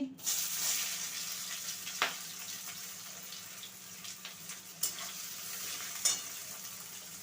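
Chopped onion hitting hot oil for a flattened-rice pulao gives a soft, steady sizzle with a few sharp scrape and tap accents from stirring, fairly quiet and close, with no speech.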